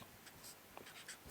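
Pen writing a label on a sewing pattern, faint, soft scratchy strokes in short bursts close to the ear in a quiet room.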